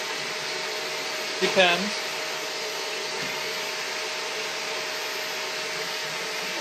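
A vacuum cleaner runs nearby with a steady, loud whirring drone throughout; a person speaks a single brief word over it.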